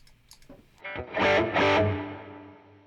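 Overdriven electric guitar through a 1981 Inventions DRV pedal with heavy reverb, a few picked notes followed by two loud distorted chords whose tails ring out and decay smoothly.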